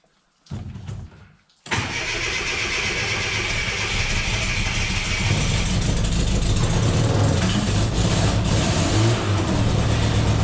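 A mini pickup converted from an invalid carriage has a short sputter, a pause, and then its engine catches and runs continuously, loud and close, with no talking.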